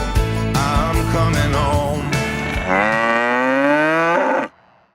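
A family dairy cow on a farm at milking time lets out one loud, long moo that rises in pitch near the end, then cuts off sharply into quiet.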